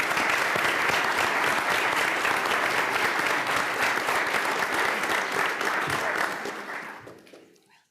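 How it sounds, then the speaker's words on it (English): An audience at a school board of education meeting applauds National Merit finalists, a loud, dense round of clapping that holds steady for several seconds before tapering off. "if we can get one more round of applause and congratulations to all of our National Merit finalists"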